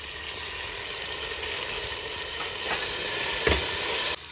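Fresh mint and coriander leaves hit a hot pan and sizzle with a steady, close frying hiss that swells briefly near the end, then drops off abruptly.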